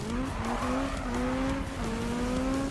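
A Honda Civic Type R drifts in Need for Speed, its engine holding a steady, sliding tone as the tires squeal through a sloppy slide, close and sustained for a few seconds.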